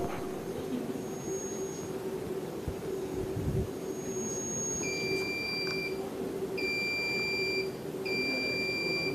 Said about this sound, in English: This is a buzzer round.